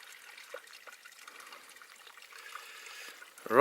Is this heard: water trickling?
yes